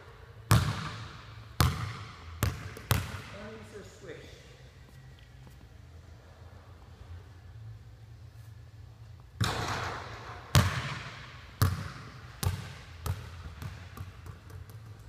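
A basketball is shot repeatedly at a hoop, sharp thuds and bounces in quick clusters near the start and again later, with a quieter stretch of rolling and faint rattling between.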